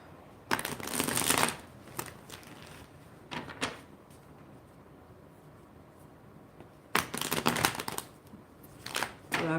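Tarot cards are shuffled in bursts of crisp riffling and flapping, two long shuffles and several shorter ones, close and fairly loud with quieter pauses between.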